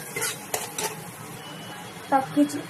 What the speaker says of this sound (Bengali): ভালো করে একবার ভালো করে কষে নেবো একটু